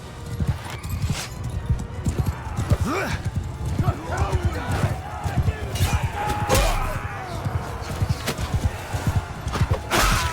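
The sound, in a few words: horse galloping in video game Mount and Blade II Bannerlord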